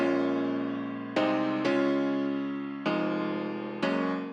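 Maverick piano from Kontakt, processed with compression, EQ and a touch of room reverb, plays five struck chords, each ringing into a slow decay. The sound is full and close, with a soft room tail and no talking.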